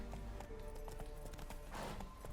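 Horse hooves clip-clop at a steady trot in The Witcher 3 video game, a faint, even patter of rhythmic hoofbeats with no one speaking over them.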